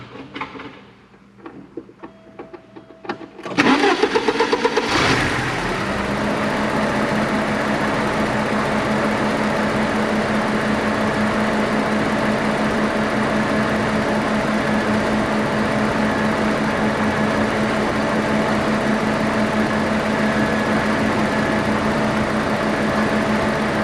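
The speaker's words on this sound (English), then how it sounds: "Now I'll go ahead and start the car." A 1987 Porsche 924S cranks over and catches, then settles into a steady, continuous idle that holds at even loudness close by, with a faint air-conditioning hum mixed in.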